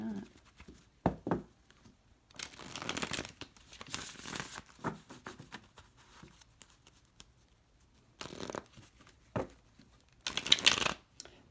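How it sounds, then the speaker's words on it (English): Tarot cards shuffled in a series of quick riffling, papery bursts separated by short pauses, close and fairly loud, with no talking over them. "I'm going to shuffle 3 times."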